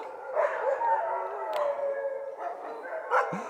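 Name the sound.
sled dogs howling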